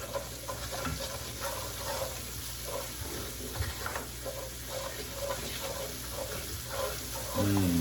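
Garlic being stirred through a hot pan as a tortilla casserole base cooks, with a steady sizzle and soft scraping strokes repeating close by, plus a brief clatter near the end.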